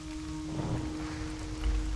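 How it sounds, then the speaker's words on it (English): Steady rain in Elwynn Forest in World of Warcraft Classic, a soft continuous patter over a low ambient hum, fairly faint and unbroken. "The rain is a nice change of pace for Elwyn Forest."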